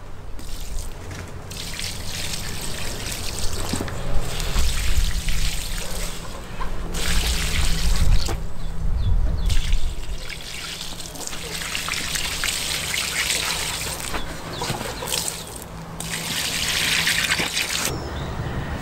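Diluted liquid fertilizer pours from a milk can onto garlic in a garden bed, a steady splashing trickle that surges and eases in waves, with no voices.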